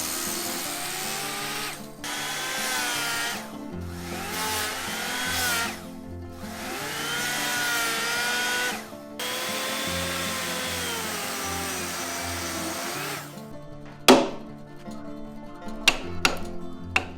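A hand-held power saw makes repeated rough cuts into hinoki wood for a deck joint, its motor whining loudly in several long bursts with short pauses between them, then stopping, followed by a few sharp knocks of wood.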